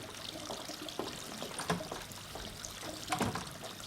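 Water pours and trickles from a flushing toilet, a continuous watery rush close by with a few splashy surges and no voices over it.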